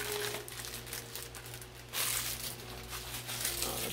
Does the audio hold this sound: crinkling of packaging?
yes